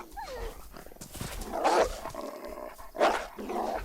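A dog in the game DayZ barks and growls at a piece of meat, with a couple of loud, close barks rising out of low growling and no speech.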